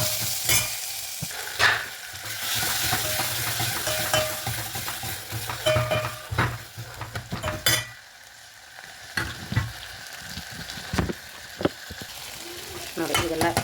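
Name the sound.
onion, chillies, curry leaves and tomato stir-fried for sambar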